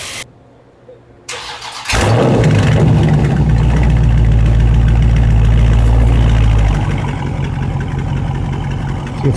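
Car exhaust after a mid muffler delete, with the rear mufflers kept: a brief click, then a loud, throaty low rumble that settles into steady idle, a short revving surge around the middle, and nearby outdoor noise.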